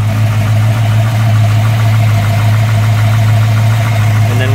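A 1965 Mustang fastback restomod engine runs loud and close after starting, a steady low idle rumble with a constant throb and slight vibration.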